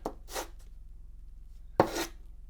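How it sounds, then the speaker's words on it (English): Sanding the body of an AstrHori AH-M1 light meter: a few short, dry abrasive rubbing strokes, two close together at the start and a louder one after a pause, heard up close over a faint low hum. "Once you have sanded your light meter,"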